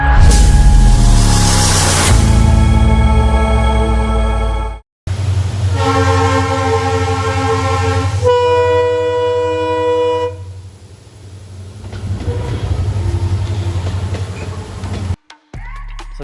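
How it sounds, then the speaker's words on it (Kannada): Konkan Express train passing on a forest railway track near Dudhsagar Falls, with loud, sustained horn blasts over a heavy rumble of wheels and carriages that rolls on close by before cutting off abruptly. "ಇವಾಗ ತಾನೇ ಟ್ರೈನ್ ಪಾಸ್ ಆಗಿದೆ ನಮ್ಮ ಕಣ್ಣು ಮುಂದೆ. ಇದು ಕೊಂಕನ್ ಎಕ್ಸ್ಪ್ರೆಸ್"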